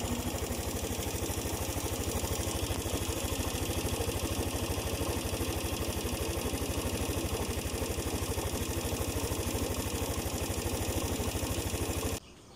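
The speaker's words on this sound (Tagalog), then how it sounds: "Maingay pa rin yung tunog ng kanyang makina." A Mola 125 motorcycle tricycle engine, recently overhauled with a new cylinder head and block, idles noisily up close, a fast steady mechanical knocking and clatter that runs unbroken before cutting off abruptly near the end.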